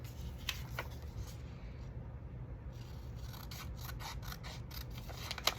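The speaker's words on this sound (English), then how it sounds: "let me just cut this white border" Scissors slice through the white border of a sheet of paper with close, steady snipping and a soft rasping, nearly alone against a low hum.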